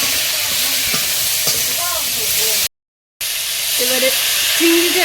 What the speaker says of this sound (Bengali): শাকটা দিয়েছি এবার এর মধ্যে একটু হলুদ আর লবণ একটু ভেজে গেছে